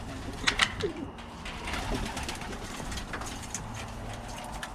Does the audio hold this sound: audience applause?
no